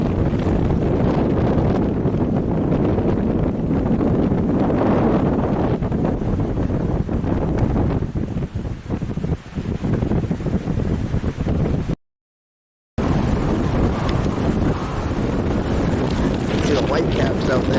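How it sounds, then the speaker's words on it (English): Strong, steady wind roars and buffets the microphone on a windy morning at Lake Massabesic, loud and continuous with a brief dropout near the end. "here is Lake Massabesic on a windy morning"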